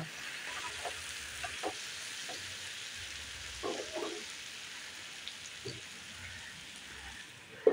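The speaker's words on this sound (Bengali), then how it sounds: "এবার সিম করে ঢাকনা দিয়ে মশলাটা কষিয়ে নেব।" Spice masala frying over low heat in a covered pan gives a faint, steady sizzle with soft scattered crackles and pops, heard alone and ending in one sharper clatter.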